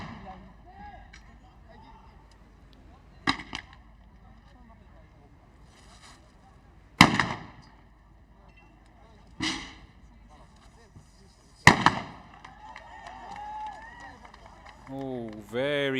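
Rifle shots fired by a tactical team at a shooting range, dropping targets in a submachine gun pen: four sharp, loud reports spaced a few seconds apart over a low outdoor background, with a brief rising tone near the end.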